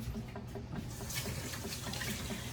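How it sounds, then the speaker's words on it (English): Cool well water runs steadily from a kitchen tap as carrots are rinsed and scrubbed beneath it, a continuous close splashing hiss with slight shifts as the vegetables move through the stream. "I run them under cool water."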